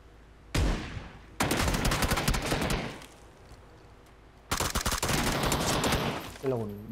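Video game shotgun fire in bursts: a single sharp blast, then a rapid volley of shots, a pause, and another loud burst of gunfire, with a voice briefly at the end.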